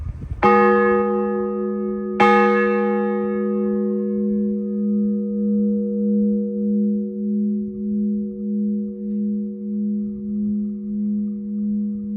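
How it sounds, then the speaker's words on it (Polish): A medium church bell cast by the Felczyński brothers strikes twice, loud and near, each toll ringing out into a long humming decay that pulses slowly as it fades. "Teraz posłuchajcie jak brzmi średni dzwon"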